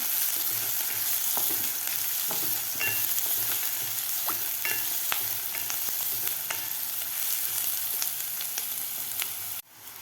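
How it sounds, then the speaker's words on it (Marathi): Chopped onion sautéing in a pan for shev bhaji, a continuous close sizzle with intermittent stirring scrapes and clinks, no voices, cutting off abruptly near the end. "आता यामध्ये घालायचा आपल्याला कापून घेतलेला कांदा कांदासुद्धा आपल्याला दोन मिनिट परतून घ्यायचा आहे"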